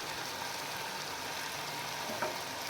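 Macaroni sauce with white vinegar cooking in a pan gives a soft, continuous sizzle and crackle, faint and even, with one brief clink of a utensil near the end.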